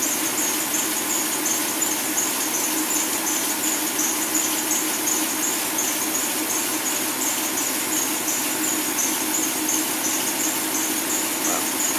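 A Hyundai Sonata engine idles with one fuel injector unplugged, giving a steady, fairly loud hum with a high, constant whine or squeal over it and a slight uneven roughness underneath throughout.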